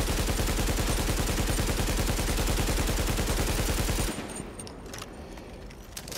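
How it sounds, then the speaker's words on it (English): Sustained automatic AK rifle fire in the shooter game Tom Clancy's The Division, a loud, rapid unbroken burst lasting about four seconds before cutting off to quieter ambient game sound. "That's an AK, by the way."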